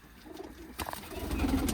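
Pigeons coo in a loft, soft low rolling calls building toward the end against a rustling, noisy background.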